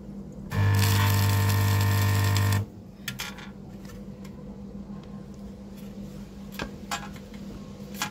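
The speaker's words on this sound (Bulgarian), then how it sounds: "Челно заваряване от монофазен спотер" Single-phase spot welder joining two 0.8 mm steel sheets: a loud steady buzzing hum lasting about two seconds, then cutting off abruptly to quiet workshop background with a few faint clicks.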